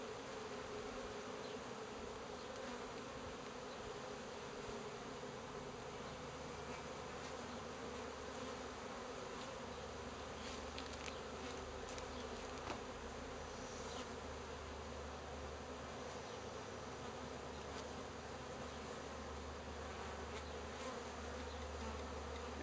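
A dense, continuous hum of many honey bees buzzing nearby at a hive, steady throughout with no voices.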